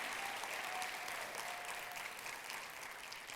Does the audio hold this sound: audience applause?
yes